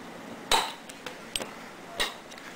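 Small metal parts of a 1911 pistol click and tap as the spring-loaded firing pin is pushed in with an ink pen and released, giving a few sharp, close clinks spaced apart in a quiet room.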